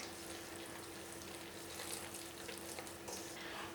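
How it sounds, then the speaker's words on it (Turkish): Hands work bread dough for Ramadan pide in water and milk, making a faint, continuous wet sloshing and squelching without clear beats. The steady mixing carries on alone, with no voices. "Şöyle elimle karıştırıyorum"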